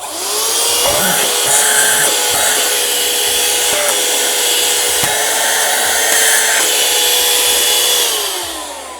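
A small Aspiring Dust 2 handheld car vacuum cleaner, 100 W, runs steadily with a loud, high-pitched motor whine and airy rush, holding constant before winding down at the end.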